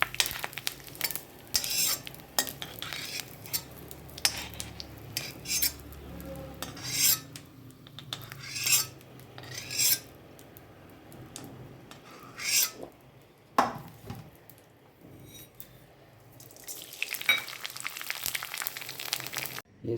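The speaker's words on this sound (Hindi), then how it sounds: "अब मैं इसी तरह से सारा गोंद तल के तैयार कर लूँगी" Edible gum (gond) frying in ghee while being stirred: repeated rasping scrapes of a spoon against the pan over a soft bubbling sizzle, irregular and close, with quiet gaps between bursts and no talking.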